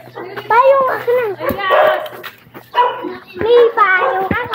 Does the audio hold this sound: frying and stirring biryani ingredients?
no